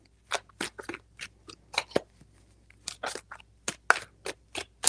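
Tarot cards being shuffled by hand, giving a series of crisp riffling bursts in an irregular rhythm, close and fairly loud against a quiet background.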